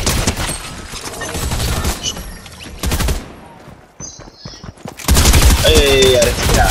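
Rapid bursts of drum gun fire in a video game, loud and dense, stopping briefly near the middle before resuming at full intensity, with voices faintly under the shooting.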